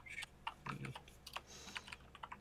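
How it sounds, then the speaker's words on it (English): Rapid clicks of a computer keyboard being typed on, close and fairly quiet, in irregular bursts of keystrokes with short pauses between them. "I feel bad about typing"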